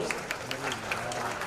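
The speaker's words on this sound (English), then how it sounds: "Let's give her a round of applause" Scattered audience clapping at a Sri Lanka Tourism Promotion Bureau press conference, a few distinct claps over a low murmur of voices, brief and moderately faint.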